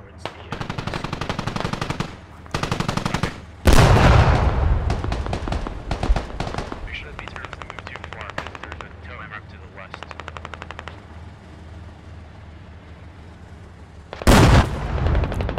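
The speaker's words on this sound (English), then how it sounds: "But Hanu just went behind and got shot up by this AT team." Heavy gunfire in the video game Squad, with rapid machine-gun bursts and loud close shots, including two booming blasts near the start and end, continuing through most of the stretch with faint voices underneath.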